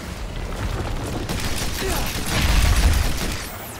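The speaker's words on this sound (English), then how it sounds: "That's some pretty good shooting action" Rapid pistol fire in the video game Evolve, a quick string of sharp shots with a heavier burst near the end, layered over in-game action noise.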